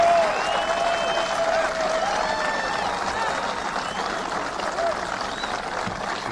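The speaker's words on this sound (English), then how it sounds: "Strike three for allowing a gratuitous amount of applause." Prolonged applause from sailors aboard the aircraft carrier USS Abraham Lincoln greets a presidential speech, a continuous moderately loud wash of clapping with scattered voices and a faint whistle.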